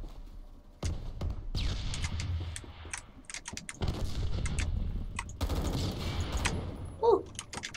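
Video game combat with gunfire and grenade explosions, dense bursts of shots and blasts arriving in clusters, loud and close with short gaps between volleys.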